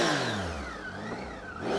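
A Triumph Tiger 800 XRx motorcycle's triple engine starts up and revs, a steady close mechanical drone with rising and falling pitch sweeps and a faint whistle over the whole stretch, no talking.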